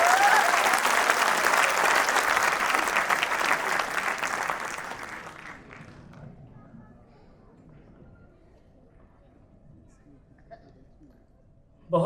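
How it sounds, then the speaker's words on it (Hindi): Loud, dense applause from an audience filling a hall at a live comedy poetry show, sustained for several seconds before tapering off into a quiet room. "बहुत जोरदार तालियां रहीं"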